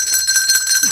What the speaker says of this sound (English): Make I ring bell.